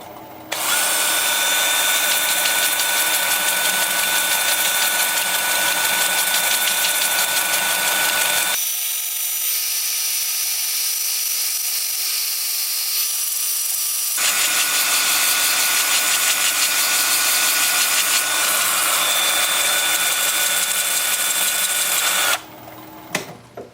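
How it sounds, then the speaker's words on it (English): Grit discs sand a hazelnut wood bowl spinning on a lathe, a loud steady power-tool whir that cuts off for several seconds, resumes, then stops near the end. "I'm going to use an 80 grit disc and work up through 400 grit"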